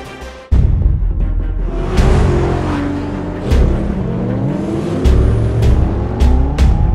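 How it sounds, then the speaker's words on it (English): Bentley GT twin turbo car engine, a loud close roar with repeated revs and gear shifts, the engine note climbing and falling through several surges. "We have Roman's car, the Bentley"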